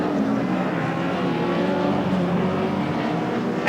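A 1990 British Touring Championship car pulls out of the pit lane at Donington Park, its engine a steady, dense roar heard from nearby at an even level throughout, with no break in the sound.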